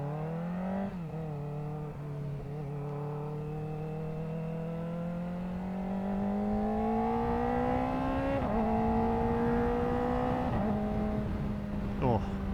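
A Kawasaki ZX-4RR motorcycle fitted with an aftermarket exhaust pipe accelerates hard. Its engine note climbs steadily and close up, with brief dips at each gear change, and rises loud and sustained throughout.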